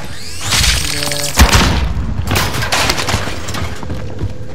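Frag grenade goes off in the video game Warzone, a sharp booming blast with debris-like crackle, followed by scattered gunfire and game noise at steady loudness.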